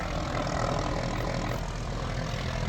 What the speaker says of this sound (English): here comes a different helicopter coming in now.